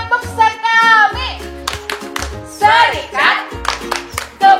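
A group of young children in the Sekami mission group chants in unison with rhythmic hand claps, crisp claps breaking between the sung phrases over a low sustained backing tone, loud and close.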